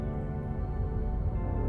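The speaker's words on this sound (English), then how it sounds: "So that was the sound of a smelter starting up." A smelter starting up in the video game Maia gives a loud, steady low mechanical hum with a rumbling drone and layered tones, continuous throughout with no voices.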